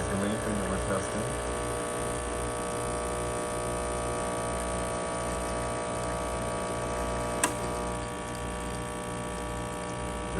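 A Nuova Simonelli Oscar espresso machine after a full tune-up, its pump humming in a steady, close buzzing drone throughout, with one brief sharp click partway through.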